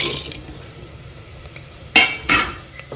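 Whole spices roasting dry in a pan: cloves, cardamom, mace, bay leaf, cashews and fennel. A faint sizzle runs under two sharp, close stirring scrapes, with no speech.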